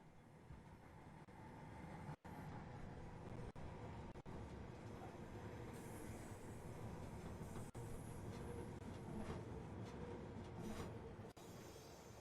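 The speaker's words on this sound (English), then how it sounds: "Here it is being pushed back." Freight train being pushed back in reverse at Bath Spa station, a continuous low rumble of rolling wagons with faint wheel squeal and a few sharp clanks, heard from trackside at moderate distance.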